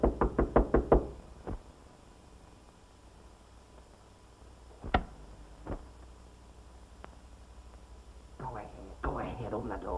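Knocking on a door in an early 1930s crime comedy film, a fast burst of five sharp raps, then scattered single knocks and thuds, with voices talking toward the end.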